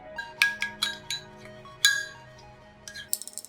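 Utensil clinks against a bowl while stirring a yellow-tinted beaten egg mixture, a run of light, irregular glassy taps close by with short pauses and a quick burst of clinks at the end.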